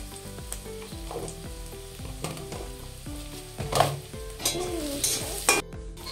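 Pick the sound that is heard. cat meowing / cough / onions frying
onions frying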